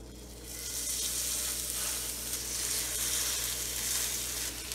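Meatball planks frying in olive oil in a pan, a steady, even sizzle with a constant low hum underneath, close and moderately loud without any speech.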